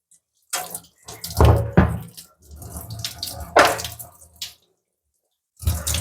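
Tap water runs and splashes in uneven bursts while RO water purifier parts are rinsed under it, nearby and fairly loud, with short gaps.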